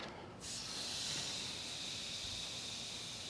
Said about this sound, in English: I'm not sure if you can hear it, but it's searing right now.